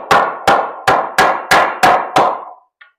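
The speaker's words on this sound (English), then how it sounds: "I'm going to take this hammer," A hammer strikes a wooden board six times in a steady rhythm, driving it flush on a chicken brooder table. The blows are loud and close, followed by a faint final tap.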